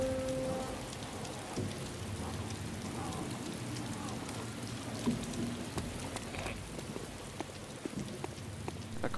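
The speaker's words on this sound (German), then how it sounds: "Und es regnet" Steady rain in the survival game DayZ, a dense continuous patter of drops on surfaces holding at an even level throughout, with scattered sharper taps and a faint low rumble beneath.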